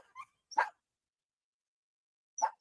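Dogs barking a few times at a distance, with sharp separate yips and a longer gap before the last bark, against an otherwise quiet background.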